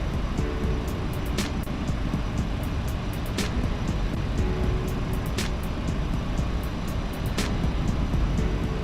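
Concorde jet engines roar at takeoff in MSFS 2024, a dense, steady broadband rumble holding evenly throughout with faint clicks on top and no voices.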